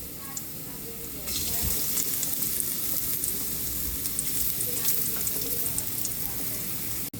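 Garlic dropped into a hot pan of oil, a steady sizzle that rises sharply and holds at a constant level, with faint clinks and scrapes of stirring.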